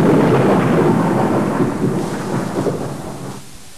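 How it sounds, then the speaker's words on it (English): Thunderstorm with a heavy, rolling rumble of thunder over steady rain, loud and broad at first, then slowly fading over a few seconds. "The last race, in 1815, was run in a thunderstorm."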